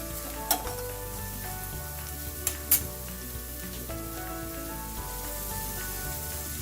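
Finely diced onions sizzle in a pan for a Kerala shrimp chilli masala, a soft, even crackle broken by a few sharp clinks and scrapes as they are stirred.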